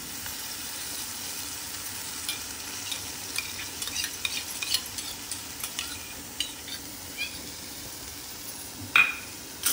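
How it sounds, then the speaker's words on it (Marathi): Tomato puree is stirred into sautéed onion paste in a pan for a raw banana curry, giving a soft steady sizzle with scraping spoon strokes and a few light clinks against the pan. "आणि आता ते छान आपण ढवळायचं."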